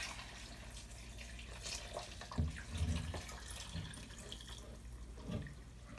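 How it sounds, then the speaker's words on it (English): Tap water running into a container of torn paper, a faint steady pour with soft splashes and gurgles close by. "fill it up with water until it covers the paper completely"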